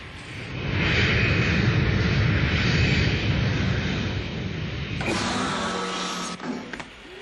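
An aircraft descending to land at a base in an animated show, a loud, continuous jet-like roar that swells and holds, then shifts tone as it settles, heard alone without talk.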